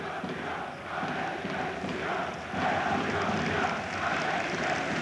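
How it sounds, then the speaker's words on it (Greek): In a packed arena at a PAOK versus Aris basketball game, the crowd keeps up a loud, sustained roar in which Aris fans boo and PAOK fans applaud, swelling midway through. "Αποδοκιμασίες από τους οπαδούς του Άρη. Χειροκροτήματα από τους οπαδούς του ΠΑΟΚ."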